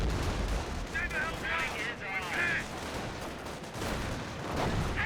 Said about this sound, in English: an AT gun he already has, firing away, getting some shots there